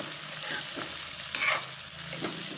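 Spiny gourd (kartoli) sautés in oil in a pan, a close crackling sizzle broken by scraping stirs and a sharp spatter near the middle, with no voices.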